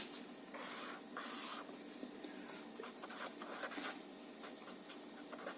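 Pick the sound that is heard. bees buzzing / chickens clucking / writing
writing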